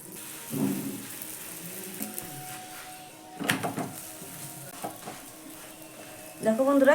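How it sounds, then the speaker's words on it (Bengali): An onion paratha frying in oil in a pan, a steady sizzle broken by a few bursts of scraping and pressing from a spatula, close and moderately loud. "একইভাবে আবারও একটা পরোটা তোমাদেরকে আমি ভেজে দেখিয়ে দিচ্ছি আমি এক চামচ তেল দিয়ে দিলাম"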